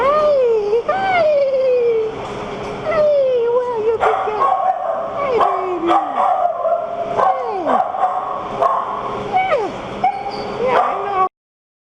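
Several dogs awaiting euthanasia at a pound bark, yip and whimper close by, rising and falling cries overlapping one another almost continuously for about eleven seconds before cutting off abruptly.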